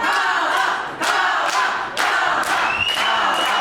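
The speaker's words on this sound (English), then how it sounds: "You can hear most of the crowd here in Festsaal-Kreuzberg tonight are pretty much unanimously in favor of Cara" A wrestling crowd roars inside Festsaal Kreuzberg during a women's championship tournament final, a loud, sustained wall of cheering and shouting with rhythmic surges roughly every second, like chanting or stomping, and scattered claps.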